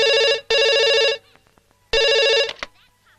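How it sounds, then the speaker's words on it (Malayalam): A home telephone rings twice with loud, bright electronic trills separated by a short pause, with quiet room sounds between rings. "നന്ദേച്ചി, ഒരു ഫോണുണ്ട്."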